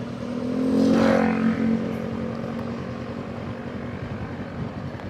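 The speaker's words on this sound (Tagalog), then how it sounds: "May nagje-jet ski na." A jet ski on a lake at Caliraya whines past, its engine pitch rising to a loud peak about a second in and then fading into a steady motor drone, heard without talk.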